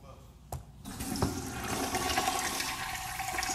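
A toilet flushes with a rising gurgling rush of water that swells and keeps draining steadily, following a couple of sharp clicks at the start, with no talk over it.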